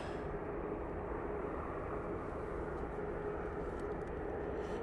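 An easyJet airliner at Manchester Airport roars with a steady broadband jet rumble that stays constant and moderately loud across the whole stretch, with no talk over it.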